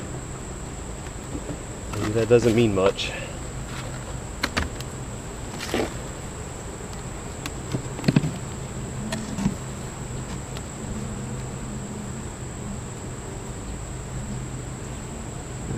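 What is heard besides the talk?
honeybees buzzing in an opened beehive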